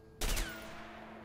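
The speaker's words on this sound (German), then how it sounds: "Das ist ein Assault Rifle." A single short burst from an assault rifle in the co-op game A Way Out, a loud sharp volley of a few rapid shots followed by a decaying ringing tail, with no talk over it.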